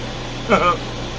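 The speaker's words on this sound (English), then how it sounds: "They can't hear me in here with the air conditioner running." A motorhome air conditioner runs as a steady, constant hum, with a brief voice passing over it midway.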